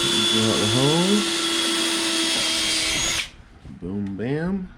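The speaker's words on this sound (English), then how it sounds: "drill out the holes" A power drill bores holes into a boat hull while fitting Lenco electric trim tabs, a loud steady whine running for about three seconds, then a brief second burst after a pause.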